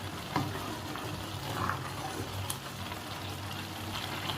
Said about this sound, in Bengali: মাঝে মধ্যে নেড়ে নেড়ে দেখতে হবে, নইলে কিন্তু লেগে যাওয়ার সম্ভাবনা থেকে যায়।